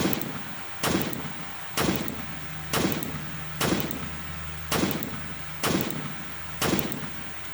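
M1 rifle shots in a Unity zombie shooter game, eight sharp loud reports spaced about a second apart, each with a short decaying tail over a low steady hum.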